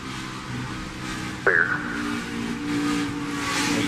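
A loud NASCAR race car engine drones steadily, then a sharp tonal burst as the driver eases off the throttle and the revs jump and ease, with the engine noise carrying on and swelling slightly.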